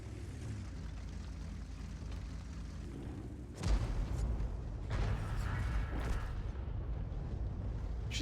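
An artillery shell from a tier 9 Bat-Chat 155-55 lands in World of Tanks: after a low mechanical rumble, a single heavy boom hits suddenly and loud, followed by rumbling debris and engine noise, with no talking.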